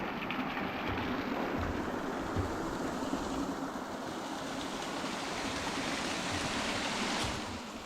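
Stream water runs beneath a small footbridge on a wooded trail in Shenandoah, a steady, dense rushing wash that holds even and close for the whole stretch, with no voices.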